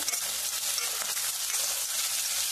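Onions with a pinch of salt stir-fry in a pan for a tomato chutney, giving a steady, close hiss of frying with soft scraping of the stirring, no voices.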